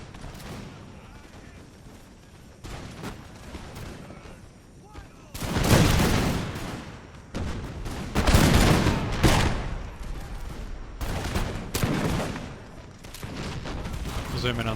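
Musket volleys in the Imperial Splendour mod of a Napoleonic-era battle game, Highlander troops firing by rank as ragged crackling fusillades that burst out in waves, with a quieter stretch first and voices talking underneath.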